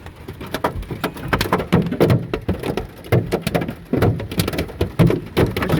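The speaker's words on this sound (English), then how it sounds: "Alright, this hail is a little bit bigger." Hailstones pound a car's windows in a dense, irregular volley of sharp impacts, loud and close, with heavier thuds scattered through the steady clatter and no voices.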